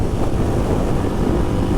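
Steady wind roaring and buffeting close to the microphone while riding a 2024 Kawasaki KLX300SM motorcycle, a constant low rumble with no voices.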